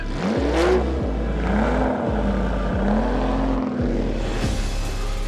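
A classic car's raw, unassisted engine revs hard in loud repeated surges, pitch climbing and dropping with each gear change, alone and close with no talk.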